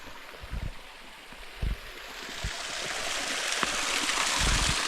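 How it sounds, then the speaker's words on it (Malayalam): Irrigation water flows steadily through a farm channel in an Omani village, a continuous rushing hiss with a few low thumps early on, growing slightly louder toward the end. "ഇതുവഴി ഇങ്ങനെ വെള്ളം പോകുന്നുണ്ട്"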